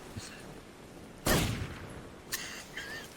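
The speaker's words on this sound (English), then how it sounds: "Don't shoot. That's the damage from a headshot." A single loud gunshot blast with a rumbling tail rings out in Metal Gear Solid 3, followed by a couple of fainter game sounds over a low background.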